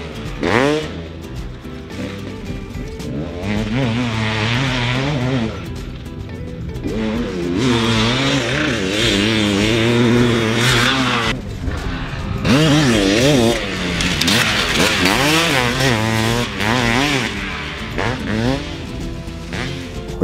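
Third-generation KX Guru Racing KTX500E big bore two-stroke motocross bike ridden hard, its engine rising and falling in repeated snarling revs as it passes near and away, loud throughout.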